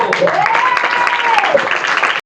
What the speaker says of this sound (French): vous pouvez vous applaudir, bravo